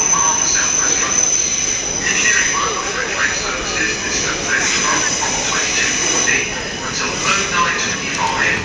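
A Southern train stands at a Clapham Junction platform on an evening service to London Victoria, its steady broadband rumble and hum filling the station while people talk nearby.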